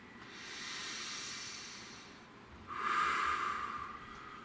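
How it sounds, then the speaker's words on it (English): A slow, deep breath: a long airy inhale followed by a stronger, louder exhale, close to the microphone with no talking. "Nice deep breath."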